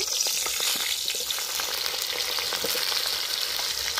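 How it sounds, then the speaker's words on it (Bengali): Potatoes frying in oil for Kolkata biryani, in the same oil used to brown the onions, give a steady close sizzle with scattered small pops and crackles throughout, no voices. "এই তেলের মধ্যেই আমি আলুগুলো ভেজে নেব।"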